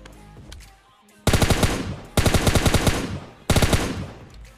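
Automatic gunfire in the mobile shooter PUBG Mobile Lite: three loud, close bursts of rapid, evenly spaced shots, each lasting about a second, separated by brief quieter gaps with faint background game sounds.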